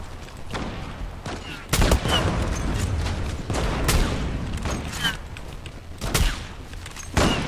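Shots from a Bora 12 rifle in the shooter game Zula ring out as sharp, spaced cracks, a handful of loud reports scattered across several seconds with quieter gaps between.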